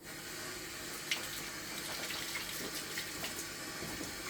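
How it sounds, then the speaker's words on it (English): A kitchen tap runs steadily while hands are washed under it, giving a soft, even splashing with a few small knocks, fairly quiet and without voices. "You wash your hands."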